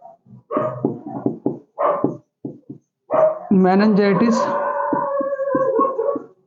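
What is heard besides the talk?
dog barking and howling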